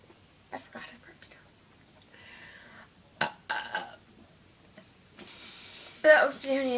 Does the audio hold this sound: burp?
yes